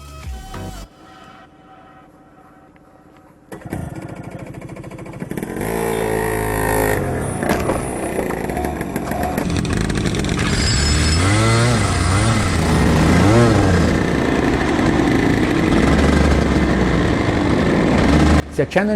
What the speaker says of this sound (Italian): Si accendono i motori